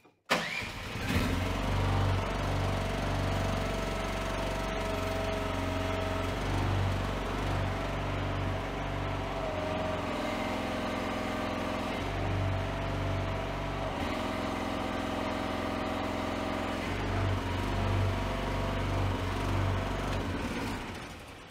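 A Chinese mini excavator's engine runs and labours as it powers a Miva hydraulic cone log splitter, a loud, close, continuous mid-pitched drone with periodic surges and dips in load, no talking.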